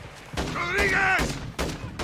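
Bursts of gunfire from a firefight in the Call of Duty Modern Warfare II campaign mission Borderline ring out in sharp repeated cracks, mixed with shouted voices and a tonal call.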